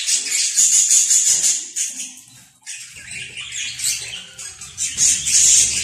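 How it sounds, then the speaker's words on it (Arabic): A Timbrado canary sings close by in bright, high-pitched bursts of trills and chirps, with a short lull in the middle before the song resumes loudly. "الطائر كمان من نوع التمراد طائر محبوب"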